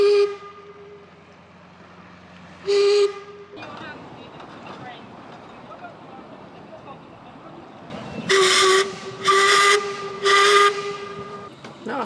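A steam train gives several loud whistle blasts, one short blast and then three longer ones, with a soft steady hiss of escaping steam between them.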